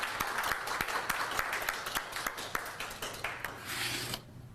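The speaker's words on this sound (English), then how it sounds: "Can you please give a round of applause to Josiah Williams?" An audience at a mayor's media briefing in Wichita claps steadily for several seconds before the applause cuts off abruptly near the end.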